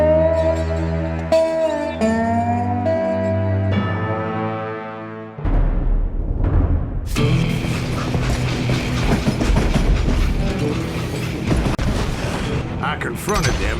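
A train runs during a robbery in the western game Call of Juarez Gunslinger: loud, rumbling, clattering mechanical noise takes over after a few seconds of sustained musical tones.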